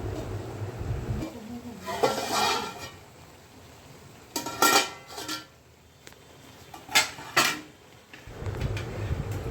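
Rice and chicken biryani with coriander and mint gets mixed in a pot, heard as intermittent metal spoon scrapes and clanks against the pot between quieter stretches, with faint background hum.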